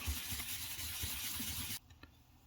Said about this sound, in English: back to the sanding pad.